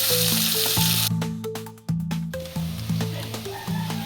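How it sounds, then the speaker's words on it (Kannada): Food sizzles in a hot pan for rasam, loud crackling frying with bright popping bursts and brief scraping stirs, close up and with no talking. "ಫ್ರೈ ಆಗಬೇಕು."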